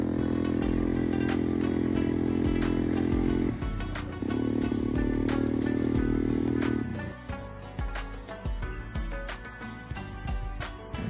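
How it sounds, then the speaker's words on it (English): An ATV rides on a desert tour in the Skardu cold desert, its engine droning loud and steady close by, dipping briefly mid-run before a second sustained stretch, then settling into a rougher, uneven idle with clattering. "ATV and doing the desert tour"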